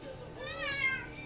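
A pet cat meows indoors in one drawn-out, rising and falling call, close and fairly clear over a low background hum.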